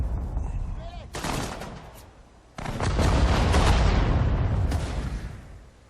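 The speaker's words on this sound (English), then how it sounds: "At least we got artillery help." Artillery support in the World War II strategy game Sudden Strike 4, a heavy booming barrage of loud explosions and gunfire that breaks off briefly, then crashes back in as a sustained roar, with a voice talking faintly underneath.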